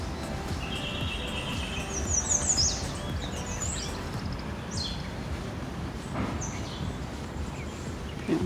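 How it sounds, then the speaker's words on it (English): Birds chirp and sing in a foggy park in the early morning, with bright, scattered calls rising over a steady low outdoor rumble that sounds like distant traffic or a passing train. "I just love the sound of birds, of nature early morning."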